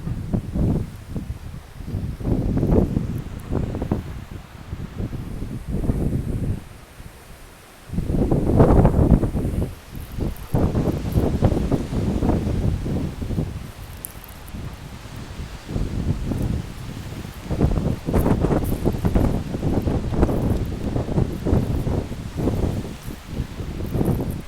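Winter wind buffets hard in gusts, a loud continuous rushing roar with microphone wind noise that rises and falls, briefly lulling before surging again, with no talk.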